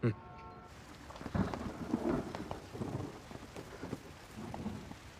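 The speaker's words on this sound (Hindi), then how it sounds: "अचानक से बारिश आ गई।" A sharp crack opens, then thunder rumbles low and uneven while rain patters steadily across a surface.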